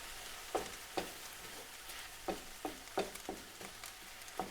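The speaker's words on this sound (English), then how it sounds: "Cooking your mushrooms" Mushrooms fry in oil in a pan, a faint steady sizzle broken by a series of light taps and scrapes from stirring, close and quiet.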